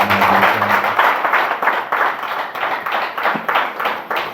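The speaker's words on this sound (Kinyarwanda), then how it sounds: "Amashyi menshi cyane" Applause from a church congregation during a pastors' ordination ceremony, a steady broadband wash of many hands clapping for several seconds, fairly loud and continuous with slight swells.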